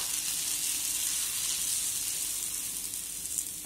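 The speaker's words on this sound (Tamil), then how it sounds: "இப்போ நம்ம மிக்ஸ் பண்ணி வச்சுருந்த முட்டையை இதோட சேர்த்துக்கலாம்" Beaten egg meets a hot pan while making egg kothu bread, giving a steady, close, fairly loud sizzle with broad hiss and no talking.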